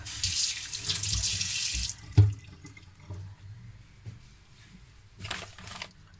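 Tap water runs loudly into a kitchen sink to soak spaghetti for a fish carbonara, a steady gush for about two seconds, then a knock and quieter handling, with a brief second burst of water near the end.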